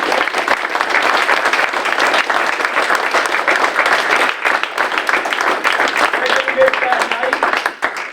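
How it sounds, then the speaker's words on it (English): Sustained audience applause for coaches at a Sachem East school event, dense and steady throughout, loud and close, with a brief dip midway before continuing, and faint voices mixed underneath. "Let's just give a round of applause, coaches."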